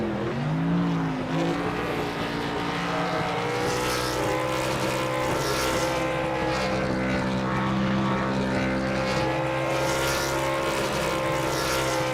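A race car engine roars steadily through a celebratory burnout after winning the Integrity Ignite 300, its loud, sustained drone shifting pitch as it revs, with a broad hiss of spinning tires underneath.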